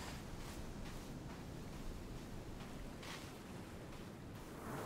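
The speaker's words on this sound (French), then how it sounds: "il y a beaucoup de vent." Wind blowing in the survival video game Sons of the Forest, a faint continuous rushing hiss with gentle gusty swells and no talk.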